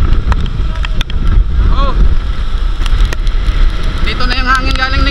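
Strong typhoon wind roars and buffets continuously close to the microphone, loud and gusty, with a brief exclamation from a voice and faint whistling tones.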